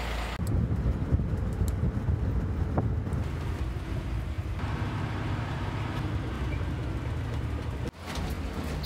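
A bus rides a bumpy unpaved road between Tambacounda and Kedougou, its interior filled with a steady rumbling drone, rattles and wind buffeting, broken by a sharp jolt near the end.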